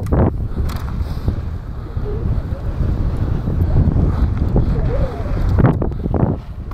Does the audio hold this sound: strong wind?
yes